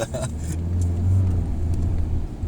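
A BMW car accelerating hard on a German autobahn, heard from inside as a steady, loud engine and road rumble that swells slightly midway, with faint voices briefly at the start.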